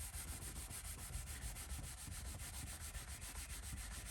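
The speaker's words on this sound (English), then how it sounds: "So I'll just give the guitar a bit of a clean with naphtha." A cloth rubs rhythmically over a Made in Mexico Fender Telecaster being cleaned with naphtha, a soft, close, repeated wiping and scrubbing with no voices.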